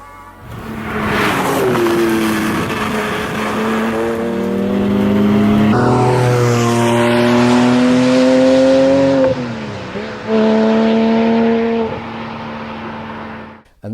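A Porsche 718 GT4 fitted with a Litchfield Motors aftermarket exhaust roars loudly through sustained rising revs, a brief lift near the end, then pulls hard again, the engine note close and dominant with no voices.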